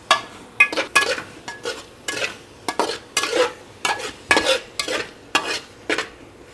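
Potatoes coated in spices, cooked for a rice pulao, are stirred and fried in a pot, with a steady run of spoon scrapes and clinks over a low sizzle, repeated in an uneven rhythm, close and alone.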